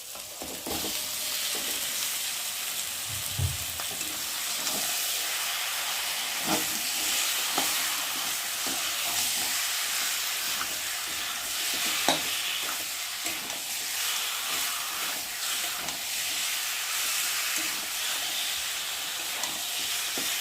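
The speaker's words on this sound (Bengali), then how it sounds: "আর এখন এই মশলার মধ্যে চিকেনটাকে দিয়ে ভালো করে কষিয়ে নেব।" Chicken stir-frying in spice masala for chicken kosha in a home kitchen, a steady broad sizzle and hiss running throughout, with occasional scrapes and knocks of a stirring spoon against the pan, close and continuous with no talking.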